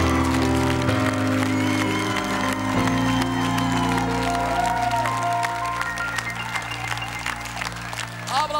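A talent-show audience applauds street gymnasts during a results announcement, steady clapping and some cheering filling the hall under loud music, with a voice briefly heard.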